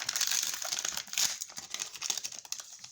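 Crinkly plastic foil of a Pokémon trading card booster pack being torn and crumpled open, a dense run of sharp close crackles and rustles over about three seconds with no talking.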